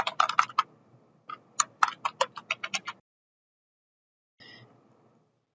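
Computer keyboard typing while a name is entered for a saved colour card in a fashion design resource: a quick burst of crisp clicks for about three seconds, a pause, then a few more faint keystrokes, close and clear.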